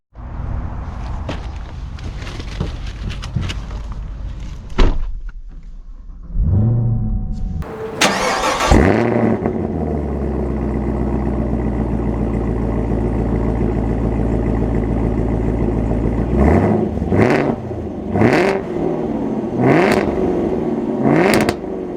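A 2024 Chevy Camaro ZL1 cranks and fires up with a sharp bark, settles into a loud, close idle, and then takes several quick throttle blips that rise and fall in pitch.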